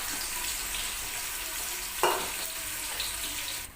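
Four medium onions, very finely chopped, fry in a heated pot for Thalassery chicken dum biryani, giving a steady broad sizzling hiss throughout with a brief louder burst midway.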